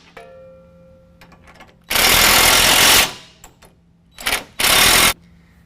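An impact tool drives 21mm socket bolts on a Backwoods Brute HD rear bumper fitted to a 2017 Ford F-250. It gives three loud, close rattling bursts, with a long first burst and two shorter ones after it, separated by quiet pauses.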